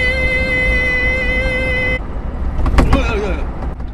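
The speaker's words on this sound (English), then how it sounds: "the electric motor, as you can hear, has a constant whine" Renault Twizy electric car motor giving a steady, high-pitched tonal whine that holds evenly for about two seconds and then cuts off, leaving rougher road and cabin noise.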